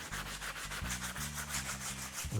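Steady back-and-forth rubbing of 220 grit sandpaper along the grain on the edges of a wooden cricket bat, close and continuous with a regular stroke rhythm and no talking.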